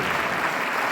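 A quick burst of audience clapping at a campus gospel concert and overnight worship event, a brief, dense wash of hands without voices.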